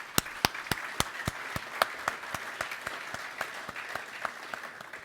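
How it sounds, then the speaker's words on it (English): An audience applauds at an essay contest ceremony honoring Martin Luther King Jr., a steady run of sharp individual claps standing out over a dense, even wash of clapping for the whole stretch. "So round of applause for the communication department."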